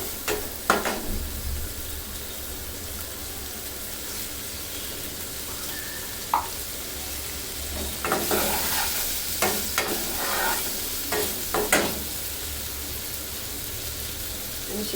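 Okra, potato and shrimp curry sautéing in a pan, with a steady low sizzle and scattered scraping stirs of a spoon that cluster toward the end, heard up close with no voices.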